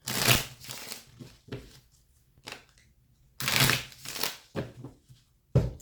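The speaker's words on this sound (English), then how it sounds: "Let me shuffle this one more time." Tarot cards are shuffled in several quick bursts of riffling and sliding, close up, with short pauses between.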